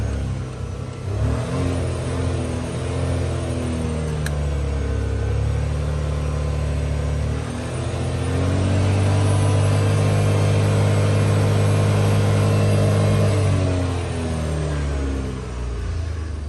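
A Citroën C4 Grand Picasso 1.2 petrol engine idles steadily up close, a low continuous rumble with a rise in pitch midway as it revs, then settles back.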